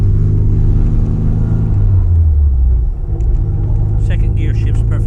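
A SEAT 132 classic car engine rumbling steadily while driving, loud and close with a deep low drone that dips briefly mid-clip, with some faint higher noise near the end.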